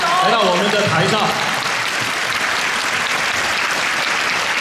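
A theatre audience applauds as director Li Ren is welcomed onstage at a Tianjin preview of the play Deling and Cixi. Sustained loud clapping fills the hall, with a voice speaking over it at the start.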